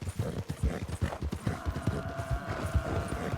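A horse trots at a steady rhythm in Red Dead Redemption 2, hooves clip-clopping loud and close in a continuous run of hoofbeats over a low rumbling ambience.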